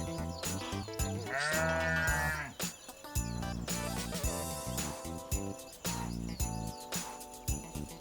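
A dense, loud overlapping chorus of livestock bleats and lowing calls, with repeated drawn-out cries layered over each other.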